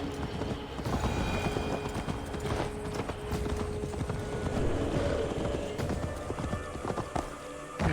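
Horse hooves clip-clop steadily in Assassin's Creed Valhalla, a continuous rhythmic clatter under a busy game soundscape with no talking.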